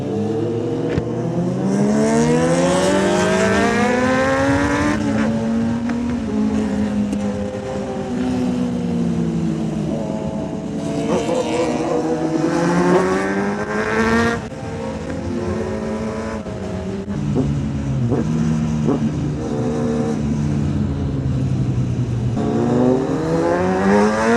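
Superbikes such as a ZX10R, Hayabusa and Z9 rev and roar along a mountain road near Yelagiri, loud and close, with the engine pitch repeatedly climbing and dropping through the gears in continuous surges.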